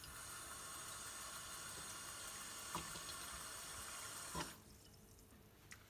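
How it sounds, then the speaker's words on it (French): Water runs steadily from a tap or is poured into a container holding tomato seeds, a constant close hiss that cuts off sharply near the end. "on met de l'eau."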